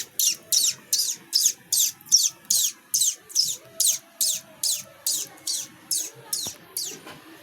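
A person imitates a baby chick with his voice, making a rapid, even series of about fifteen high, thin peeps, close and clear, with faint background noise underneath.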